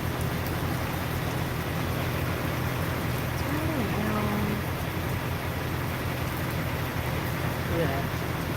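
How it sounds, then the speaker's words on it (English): Heavy rain pours steadily on a truck in a dense, unbroken hiss with a low idling rumble underneath, and someone talks briefly over it. "Oh, the rain is making me sleepy. It's pouring."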